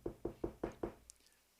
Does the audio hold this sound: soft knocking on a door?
yes